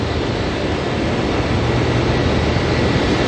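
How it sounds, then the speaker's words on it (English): Jet engines of an Airbus A320 spool up at Auckland Airport, a loud, dense, steady broadband roar with heavy low rumble, continuous and close, no voices. "Hear the 320 out the front here spooling on up"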